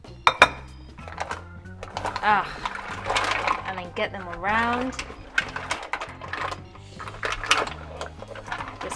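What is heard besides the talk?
mussels clattering in a cooking pan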